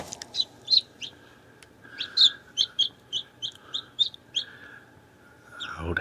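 A newly hatched quail chick peeps in a rapid series of high, thin chirps close by, about a dozen short calls in quick succession with brief pauses, over a faint steady hum.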